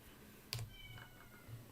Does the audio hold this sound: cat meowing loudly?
yes